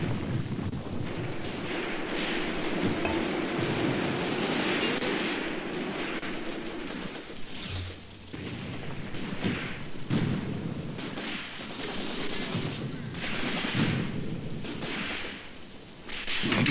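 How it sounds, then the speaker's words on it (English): Artillery and mortar fire in the Graviteam Tactics war game, a steady stream of sharp cracks and booms at irregular intervals over a continuous battle rumble, with no voices. "Look at that artillery and mortar fire going out"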